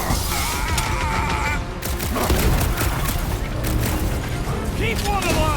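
Gunshots and combat bursts in Marvel's Guardians of the Galaxy, a loud clattering barrage of blasts and impacts over a busy game soundtrack, with character voices and shouting woven through the fight.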